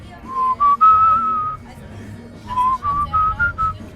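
Someone whistles a short melodic tune in two phrases, with a pause between them; clear, close, sustained notes over faint background noise.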